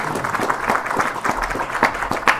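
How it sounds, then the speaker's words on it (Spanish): An audience at a book launch applauds, a brief, moderately loud patter of many hands clapping. "Así que un aplauso para ustedes,"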